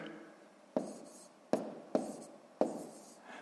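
Numbers are written down by hand, with soft pen-on-paper scratching broken by four sharp taps as the pen strikes the page, faint and close in a quiet room.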